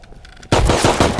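A sharp, loud gunshot burst in the Rust video game bursts out after a quiet moment, followed by a rapid string of close, punchy shots.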